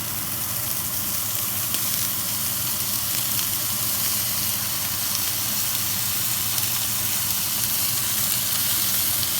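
Butter sizzling in a hot cast iron pan while kangaroo loins sear, a loud, dense and unbroken hiss of frying that holds steady throughout with no talk.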